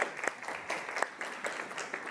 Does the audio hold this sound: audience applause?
yes